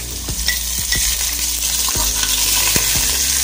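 Garlic, ginger and curry leaves sizzling in hot coconut oil, a steady close crackle with repeated utensil scrapes and taps against the pan, no speech.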